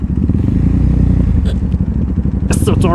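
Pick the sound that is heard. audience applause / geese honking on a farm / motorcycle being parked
motorcycle being parked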